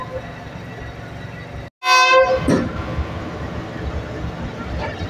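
Shalimar Express train running between Lahore and Multan, with steady rolling rumble and a loud horn blast midway before the running noise continues.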